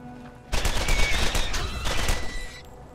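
Rapid bursts of machine pistol fire in the Borderlands shooter game, loud and close, cutting in abruptly and rattling on for about two seconds before tapering off.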